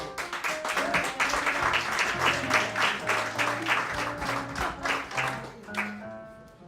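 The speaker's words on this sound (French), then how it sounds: "On applaudit chaleureusement Claudine Bertrand" An audience applauds the poet Claudine Bertrand at a poetry evening, steady clapping with distinct individual claps running throughout, easing off and thinning near the end.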